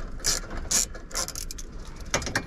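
Hand ratchet clicking as it cracks loose snug bolts on a 2006 Ford Crown Victoria Police Interceptor, with several short, sharp bursts of pawl clicks close up and uneven pauses between them.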